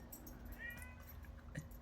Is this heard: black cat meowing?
yes